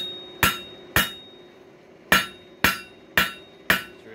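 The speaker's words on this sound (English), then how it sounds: "you can feel it when you hit it with the hammer" Six sharp hammer blows ring out on coiled spring steel while a screwdriver is forged, spaced unevenly in pairs and close by, each with a bright metallic clink.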